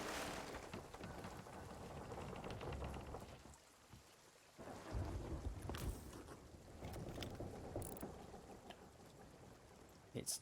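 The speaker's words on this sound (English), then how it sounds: "I might need to bail my ship a bit. It's been raining." In the pirate video game Sea of Thieves, a rainstorm beats on a wooden ship at sea with creaking and rushing water, a steady wash that dips briefly then returns, with a few sharp knocks near the end.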